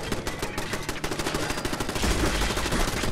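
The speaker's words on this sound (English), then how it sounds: "Oh god, machine gun turret." A machine gun turret firing in Fallout 4, with rapid, continuous bursts of automatic gunfire that stay loud and dense throughout, growing heavier toward the end.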